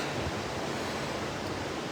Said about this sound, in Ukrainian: Тут в Велінсоні дуже сильний вітер насправді